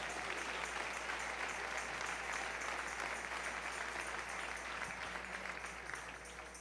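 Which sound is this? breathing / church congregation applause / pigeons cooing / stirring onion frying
church congregation applause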